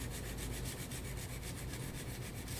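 Steady, fine rubbing strokes of 1000-grit sandpaper removing a burr from a blade, scratching back and forth in an even rhythm, close by, with no voices.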